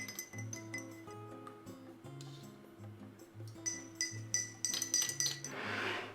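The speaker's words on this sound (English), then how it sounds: "you can slowly stir in the evaporated milk, then the condensed milk" A metal spoon clinks repeatedly against a glass while stirring evaporated and condensed milk into Thai tea, giving bright irregular taps and rings, close and fairly quiet, ending with a soft wash.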